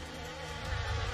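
Bees from a giant hive in an animated fighting-game matchup make a dense, continuous buzz that sounds close and steady and swells slightly toward the end.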